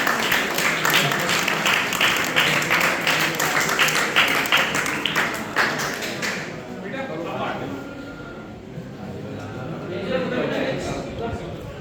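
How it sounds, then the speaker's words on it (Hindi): An audience at a Guru Samman ceremony in Chhindwara gives academy director Kamlesh Pawar a loud burst of clapping. It lasts around six seconds, then dies down into quieter room murmur with some talking. "उनके लिए एक बार जोरदार ताली कमलेश पवार जी की।"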